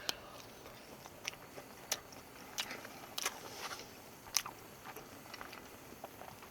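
Bites and chewing of cheese-topped takoyaki with octopus inside, heard as soft, close crunchy and squishy chews in an irregular rhythm, fairly quiet and without talk.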